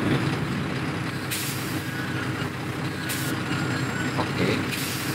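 Truck air brakes in SnowRunner while descending a steep slope: repeated sharp pneumatic hisses burst out at intervals over a steady low engine drone, fairly close and moderately loud.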